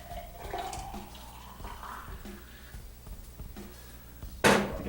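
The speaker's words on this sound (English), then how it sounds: "Okay, so pour some of the Breville juice." Grapefruit juice from a Breville juicer pours into glasses in a kitchen, a soft, steady liquid trickle heard close up, ending with a brief louder splash or clink.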